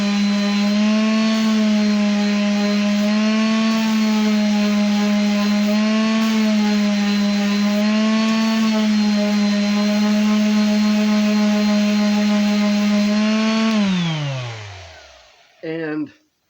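A power sander works a wooden dreidel, a loud, steady close-up droning whir that holds for about fourteen seconds before spinning down, with a brief final burst as it is switched on again and off.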